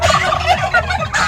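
Several turkeys gobble loudly and close by, their rapid warbling calls overlapping in quick bursts.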